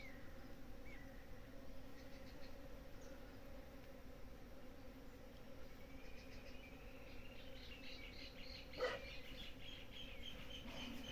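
Native bees buzz steadily at low volume in the Brazilian cerrado, a soft continuous drone with faint bird calls and insect chirps around it and one brief louder knock near the end.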